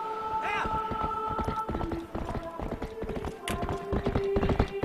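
Hooves clip-clop steadily as a horse gallops in Zelda: Twilight Princess HD, with a whinnying neigh near the start over a sustained tonal game soundtrack.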